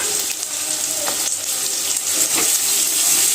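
Onion with ginger and garlic sautéing in a pan for a vegetable biryani, a steady wet sizzle with a few soft stirring scrapes, fairly loud and close, with no talking.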